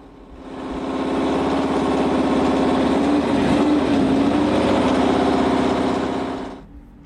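An F1 engine from the Life Racing team runs with a droning, generator-like tone, a steady buzzing hum that fades in, holds loud and close for several seconds, then cuts off, with no talking.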